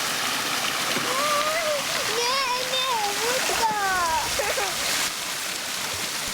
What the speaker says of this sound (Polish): Jak woda leci z góry.